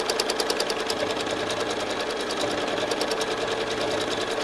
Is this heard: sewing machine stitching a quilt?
yes